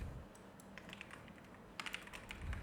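Keys on a computer keyboard are tapped in quick, light clicks, a short irregular run of faint close keystrokes with a few small bursts and pauses over quiet background.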